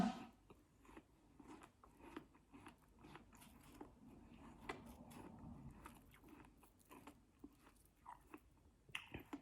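A crisp apple dipped in chili salt is bitten and chewed close up, with repeated wet crunches and softer chewing in an irregular rhythm and no talking.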